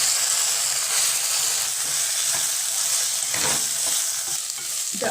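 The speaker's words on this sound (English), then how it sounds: "Add the onions and saute the onions till transparent." Onions with ginger garlic paste sauteing in a hot pan for baingan bharta, producing a constant close sizzle with scraping stirs breaking through now and then, heard alone without voices.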